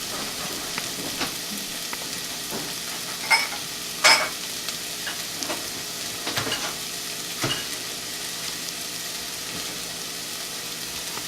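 Food frying in a pan as it is stirred, a constant close sizzle and hiss with occasional louder scrapes and knocks of the utensil against the pan.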